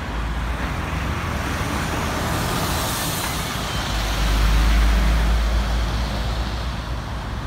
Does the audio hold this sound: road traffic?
yes